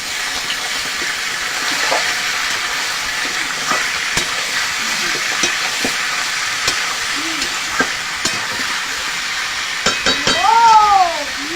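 Chicken meat fries in a pan of fried onions for a desi murgi dish, a constant loud sizzle and hiss with scattered clinks of stirring, and a short cat-like mew near the end.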